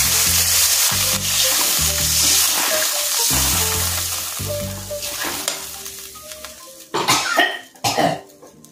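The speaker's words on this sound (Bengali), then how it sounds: "তেল বসে গেছে, এবার জল দিয়ে দেবো।" Water hits hot oil spiced with cloves and cardamom in a pan, bursting into loud sizzling and spluttering near the end, after a stretch of steady frying with a tonal hum and a couple of coughs.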